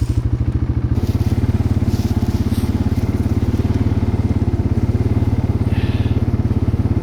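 A motorcycle ridden at night through a swamp chugs loudly and steadily close by, its fast, even engine pulses continuous throughout, with faint crackles and knocks over the top.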